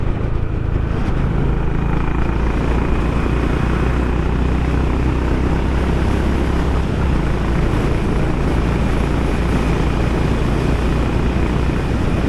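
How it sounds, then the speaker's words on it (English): Exhaust of a Honda H'Ness motorcycle while riding at speed: a steady low engine drone blended with heavy wind rush, loud and continuous throughout. "Hope you can hear the exhaust."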